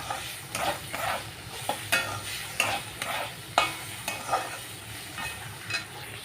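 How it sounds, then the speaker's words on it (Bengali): Bitter gourd and pumpkin slices frying with onion in a pan, a steady sizzle broken by repeated scrapes and clacks of a spatula stirring, close and moderately loud. "এই যে করছি পেঁয়াজ দিয়ে উচ্ছে কুমড়ো ভাজা"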